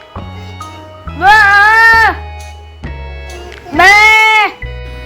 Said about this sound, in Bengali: পাঠা কিভাবে ডাকে।